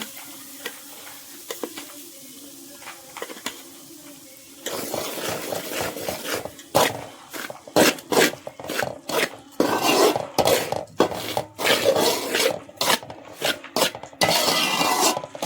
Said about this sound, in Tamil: இப்போ மாவை போட்டு கிளறி கொடுத்துட்டு அப்படியே லட்டு செஞ்சுக்கலாம்ப்பா